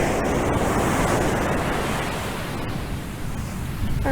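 Surf rolls onto a Fraser Island beach, a steady, broad wash of breaking waves close by with wind buffeting the microphone, no voices.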